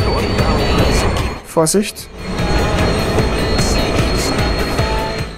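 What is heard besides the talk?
train passing over bridge in Watch Dogs video game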